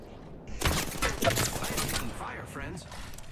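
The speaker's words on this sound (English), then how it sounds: "I'm opening the fire on the enemy." Rapid automatic gunfire from the video game Apex Legends bursts in loudly after a brief quiet moment, a dense volley of close shots that fades into lighter mechanical clatter.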